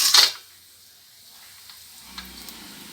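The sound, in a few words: masala spices sizzling in hot oil for chicken biryani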